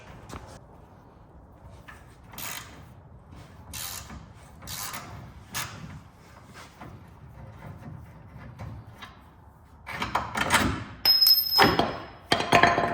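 Hand wrench work on a 1988-91 EF Honda Civic suspension during spindle removal, giving scattered metallic clicks and knocks that turn into louder, busier ratcheting and clanking near the end, close by with no talking.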